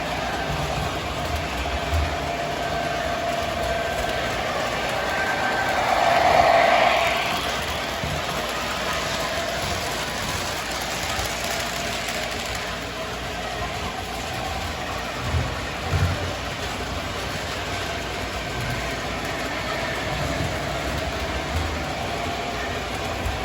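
A New Jersey Central switcher locomotive in model train scale runs around a track loop, producing a steady quiet rolling hum and rail rumble with a soft swell partway through, no voices.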